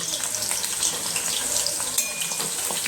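Chicken chilli frying in a pan, a steady broad sizzle with occasional clinks and scrapes as the pieces are flipped and turned, close and continuous.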